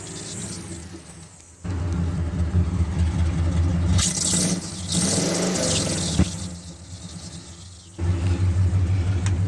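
A 1980 Jeep CJ5 engine, recently started and still below operating temperature, runs at a steady low idle, broken by a couple of louder revving surges with some scraping and handling noise in between.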